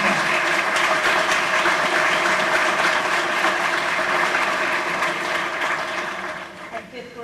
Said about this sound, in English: please give the staff and Ms. Harris a round of applause for your appreciation of their work